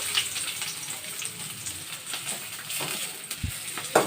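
Sliced onion frying in hot cooking oil in a kadai, a steady close sizzle and crackle with a few faint clinks, no talk.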